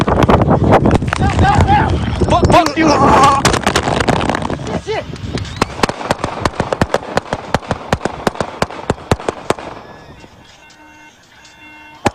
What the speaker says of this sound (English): So there you heard the shooting right there.